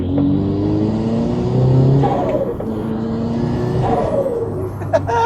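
A turbocharged Toyota GR86 running on E85 accelerates hard, its engine note climbing through the revs with a shift and another pull, loud and close from the cabin, with no one speaking.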